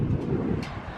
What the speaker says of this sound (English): It's starting to get a little windy today.